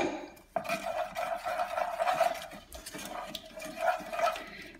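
A spoon stirs homemade spread in a bowl just after vanilla extract goes in, with continuous scraping and clinking strokes at close range and a short pause partway through.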